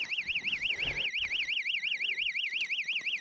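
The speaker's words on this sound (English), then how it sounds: "He's got alarms on his tip downs. Things are hellaciously loud." Electronic alarm on an ice fishing tip-down sounding during crappie fishing in a snowstorm, a loud, shrill warbling tone rising and falling rapidly and steadily, close by, with faint background noise.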